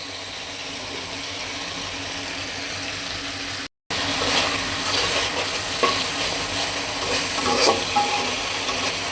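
Dried bamboo-leaf fish (bansh pata shutki) goes into a sizzling pan after a brief gap. A strong, continuous fry follows, with scraping stirs and clinks on top.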